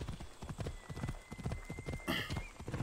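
A horse in Assassin's Creed Odyssey gallops with rapid, rhythmic hoofbeats close up, a brief whinny or snort cutting in partway through over faint game ambience.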